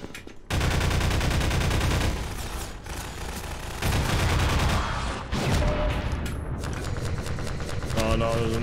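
Sustained gunfire in the Half-Life 2 video game, rapid loud bursts of shots filling the scene continuously with brief lulls, dense and close.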